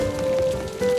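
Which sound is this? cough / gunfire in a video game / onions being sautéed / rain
rain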